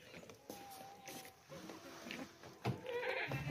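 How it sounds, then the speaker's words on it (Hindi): A dairy goat for sale at a livestock market gives a few clear, close bleats, a drawn-out cry followed by shorter calls against background bustle. "ये बकरी है"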